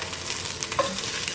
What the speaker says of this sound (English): fry my onion